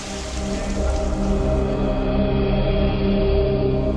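Steady rain pours outside a family home in the UK, a dense continuous hiss with a low rumble beneath, unbroken and close throughout.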